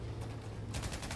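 Rapid automatic gunfire in the video game Battlefield V, quick repeated shots in a short, fairly faint burst over a low rumbling background.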